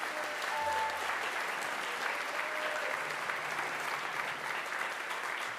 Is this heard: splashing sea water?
no